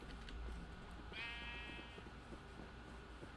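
A single sheep bleat from the Minecraft video game rises briefly and quietly over a noisy game background, lasting under a second.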